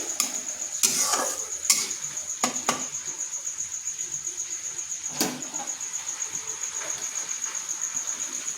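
A spoon stirs spice masala with a splash of water in a pan, giving a steady, rhythmic scraping with a soft sizzle beneath it and a few sharper clinks against the metal.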